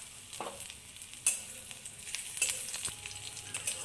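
Grated ginger and a green chilli fry in hot oil in a pan, giving a faint, steady sizzle with a few soft stirring scrapes and clinks, heard alone.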